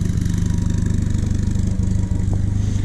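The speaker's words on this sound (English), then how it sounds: "it's idling about 850 RPM" A 1978 Triumph Spitfire engine idles at about 850 RPM at close range with a steady, even low rumble and a faint rhythmic clatter.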